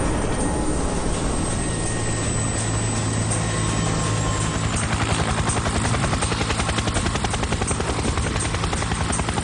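A rescue helicopter hovers over a canyon during an airlift, its rotor chopping in a steady, loud beat that holds throughout, with a continuous engine whine and no voices.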